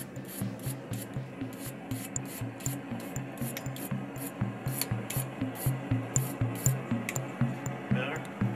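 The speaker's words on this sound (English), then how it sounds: "we'll see about getting the slag off next" Rhythmic rasping strokes of a file working slag off a steel knife blade, about two strokes per second, steady and close, continuing without talk.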